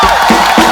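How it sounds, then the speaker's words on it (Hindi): Studio audience applause and cheering for Remo on a comedy talk show, a short loud burst of crowd noise with clapping swelling twice. "पहले रेमो सर के लिए जोरदार तालियां हो जाए।"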